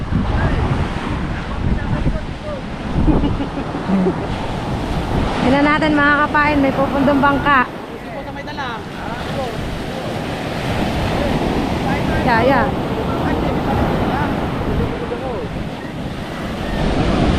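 Ocean waves roll and break along a shore where a boat is coming in, a constant loud surf wash buffeted by wind noise, with people talking over it at times.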